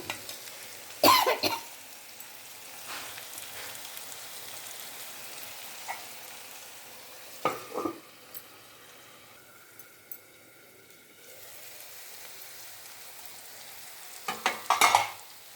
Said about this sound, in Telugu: మంచిగా వేగిపోతున్నాయండి ఎంత బాగుందో చూడండి